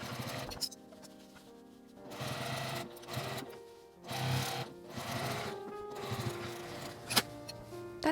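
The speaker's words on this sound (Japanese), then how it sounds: "返し口のところは止めて上端に一周端ミシンをかけます" A sewing machine runs a line of stitching around the top edge of a fabric shoulder drawstring bag. It whirs close and steady in several bursts separated by short pauses.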